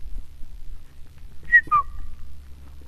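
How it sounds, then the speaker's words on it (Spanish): Two short rising whistles, a pair of quick chirps, sound over a low steady rumble, fairly distant and clear. "Chiflaron los otros compañeros."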